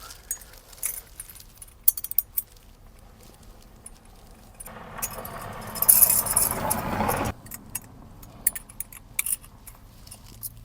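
Two 8mm spanners clink and jangle against each other and metal while bolts are tightened on a Toyota MR2 AW11 fire extinguisher bracket, sharp close metallic taps scattered throughout with a brief louder rushing noise midway.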